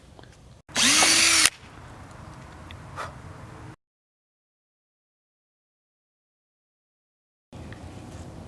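A power drill with a drill stop bores into wood while building toddler bed rails, a loud burst of under a second standing alone, followed by quieter shop noise and then silence.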